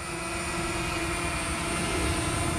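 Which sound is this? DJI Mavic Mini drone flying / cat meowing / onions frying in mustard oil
DJI Mavic Mini drone flying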